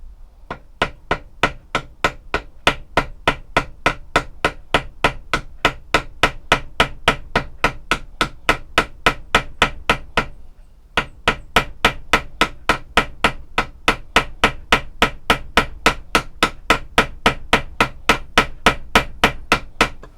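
A hammer peens over the steel pommel of a handmade Bowie knife, striking in a steady rapid rhythm of loud close metallic blows for about twenty seconds with one brief pause midway and no talk.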